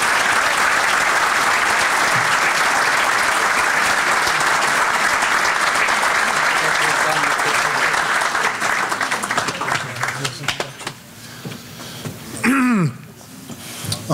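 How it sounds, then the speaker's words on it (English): An audience at a hall of fame awards ceremony breaks into loud, sustained applause that thins out and fades toward the end, with a few voices and a brief tonal sound as it dies down. "Please give him a round of applause."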